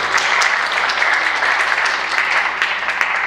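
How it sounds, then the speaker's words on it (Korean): A church congregation applauds during a Sunday service, dense even clapping from many hands, close and full throughout. "우리 박수로 우리 자녀들을 보내드립니다."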